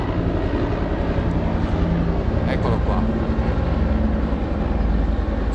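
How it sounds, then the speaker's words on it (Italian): A steady, loud engine roar from a helicopter flying over Reggio Calabria near Palazzo San Giorgio fills the whole stretch, with brief outdoor talk over it. "adesso vi c'è un elicottero che passa."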